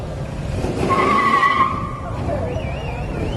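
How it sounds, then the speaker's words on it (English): Small parade cars and go-karts from a Shrine club roll past at an Oktoberfest street parade, engines buzzing with a rising tonal whine and tire squeal, under crowd noise and talking. "They always have some fun little cars, little go-karts."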